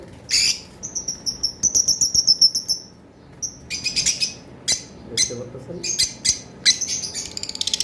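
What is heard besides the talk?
lovebirds chirping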